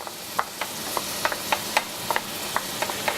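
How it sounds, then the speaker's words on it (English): Onions frying in a pan for a small risotto, a soft steady sizzle with scattered sharp crackles and pops, close and fairly quiet, no voices. "nice sizzle."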